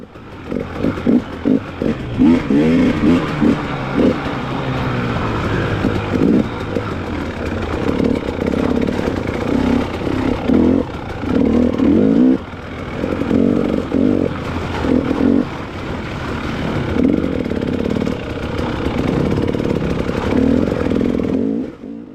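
Two-stroke motorcycle engine revving hard on a winter ride, loud and close, with repeated throttle blips and sustained buzzing rises through the whole stretch, no talk over it.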